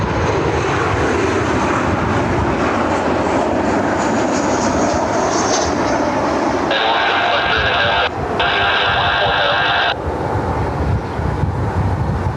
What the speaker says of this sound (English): Delta Flight 1911, 737, diverting in from the weather in Detroit this afternoon